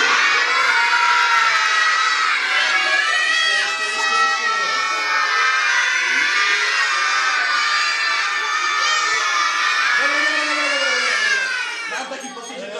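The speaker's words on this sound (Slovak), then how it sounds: "Zakričíme Mikuláš!" A large crowd of children shouts and cheers loudly for Saint Nicholas at a holiday event, a sustained chorus of high voices lasting several seconds before tapering off.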